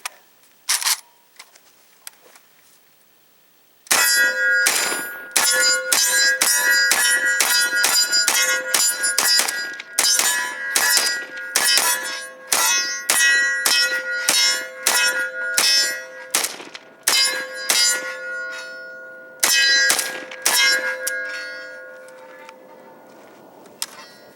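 Rapid strings of sharp metallic clangs from AK-47 rounds striking a steel target, a Palmetto State Armory PSAK-47 GB2 firing a full magazine, loud and close with bursts and brief pauses, ringing tails trailing off at the end.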